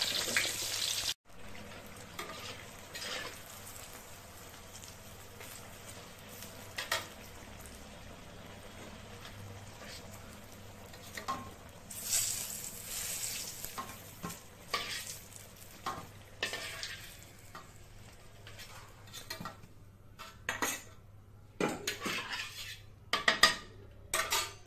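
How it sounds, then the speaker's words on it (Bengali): Eggplant fries in hot oil with a steady, low sizzle throughout, broken by occasional sharper clinks and scrapes of a utensil against the pan, growing busier toward the end; no voices. "বেগুনটা একটু ভেজে তুলে ফেলবো।"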